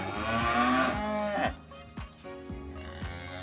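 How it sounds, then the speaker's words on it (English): Young cattle low loudly and close, one long moo followed by shorter overlapping calls, with thumping knocks in the background. "I think the cows are having a party."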